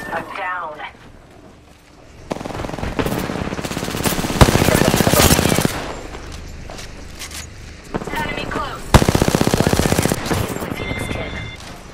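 Apex Legends gunfire crackles in two long, loud automatic bursts, an SMG among them, with single shots in between, under in-game voice callouts and a speaking player.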